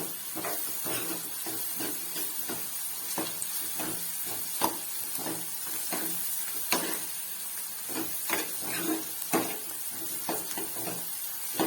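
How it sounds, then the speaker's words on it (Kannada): Chopped onion and garlic frying in a pan for an onion gojju: a steady, close hiss and sizzle, broken by irregular crackles and pops, with no voices over it. "ಈರುಳ್ಳಿ ಬೆಳ್ಳುಳ್ಳಿ ಎರಡೂ ಚೆನ್ನಾಗಿ ಫ್ರೈ ಆಗಬೇಕು"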